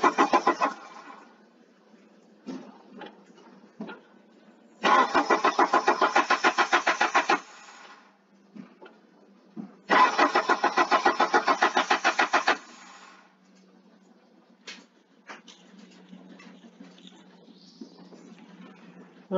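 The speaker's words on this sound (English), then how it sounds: "So let's crank the car." A car engine cranks in two bursts of steady, rapid starter chugging, each lasting about two and a half seconds, with quieter clatter and small knocks between them; heard close up while a camshaft position sensor signal is being checked.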